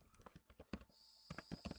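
Someone types a formula into Microsoft Excel on a computer keyboard: a quick, uneven run of soft, close key clicks and taps, faint overall.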